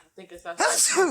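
A single sharp sneeze bursts out near the end, following a brief bit of spoken conversation from a close, indoor voice.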